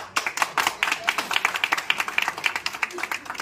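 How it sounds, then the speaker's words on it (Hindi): Clapping rings out at a New Year's Eve party, a fairly loud, uneven patter of hands from a small audience, with some talk mixed in. "तालियां कम न करिएगा, तालियां बढ़ाते रहिएगा।"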